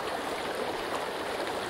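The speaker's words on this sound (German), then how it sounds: "Hier ist so ein Fluss, der geht hier runter" A river flowing steadily in the Sons of the Forest video game, a constant close rushing wash of water with light gurgling, unbroken and with no voices.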